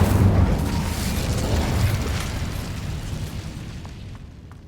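An Incendio fire spell in a Hogwarts video game bursts with a loud, close, rumbling fiery explosion that roars at once and slowly fades over several seconds.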